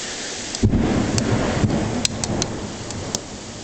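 Heavy rain pours steadily in a summer thunderstorm, a dense close hiss with low rumbles of thunder underneath and occasional sharp taps of drops landing nearby.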